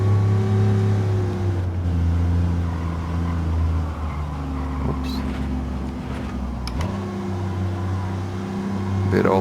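One of the oldest touring cars in Gran Turismo 7 drones on the Nürburgring, its exhaust-shaped engine note holding a steady low hum that dips and then climbs back. A voice briefly speaks over it.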